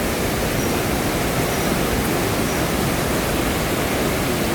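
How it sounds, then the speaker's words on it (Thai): A steady, dense rush of falling water roars without a break, full and constant, at Tat Chao Wa waterfall on Phu Khao Khwai, Thailand. "นี่จะเสียงน้ำตก"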